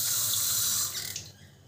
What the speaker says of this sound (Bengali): প্রয়োজন মতো আর একটু জল দিয়ে দিলাম একটু পাতলা করার জন্য